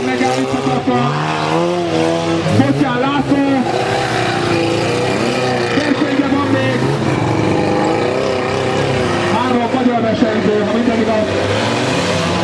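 Cars driving close by, a loud, continuous rumble of engines and road noise with shifting tones and a faint voice mixed in.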